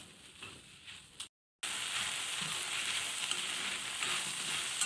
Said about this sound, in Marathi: आता आपण ना याच्यामध्ये थोडा तेल टाकूया आणि भाजूया परत.